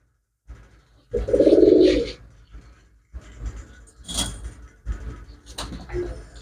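A single loud, close pigeon coo rumbles briefly, followed by quieter rustling and handling noises.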